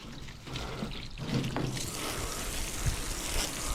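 Water from a garden hose spraying and splashing on a person beside a 1968 Ford F100 Ranger, a continuous hissing, trickling wash of moderate loudness with small bumps and shifts.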